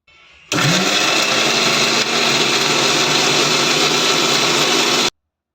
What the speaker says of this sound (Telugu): మిక్సీ పట్టేసుకుందాం